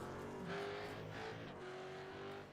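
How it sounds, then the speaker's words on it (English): Race car engines from a V8 Supercars sim racing game, a sustained steady drone with shifting harmonic tones as cars run the circuit, loud and continuous with no talk over it. "I just realised we had no car sounds."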